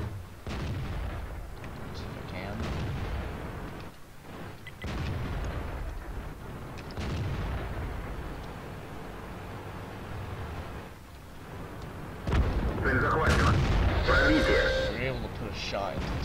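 Tank cannon fire in World of Tanks gameplay with a T-54, several heavy booms and blasts spread across the scene amid engine rumble, with a louder burst of effects near the end.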